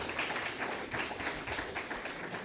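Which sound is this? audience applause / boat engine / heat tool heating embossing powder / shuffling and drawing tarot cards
audience applause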